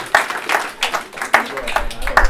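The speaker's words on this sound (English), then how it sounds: "We can get a clap, though." A few people in a lecture audience at Lasalle College clap sparsely and unevenly, close-sounding individual claps mixed with talk from people nearby.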